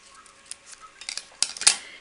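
Scissors snip through a square of craft foam sheet, cutting it in half, with a few light crisp cuts building to a sharper close snip near the end.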